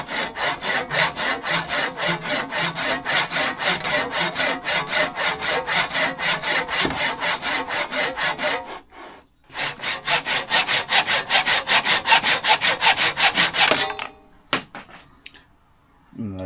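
A handsaw flush-trims old Purple Heart wood close to a box, its strokes rasping in a steady rapid rhythm, pausing briefly near the middle before resuming and stopping near the end.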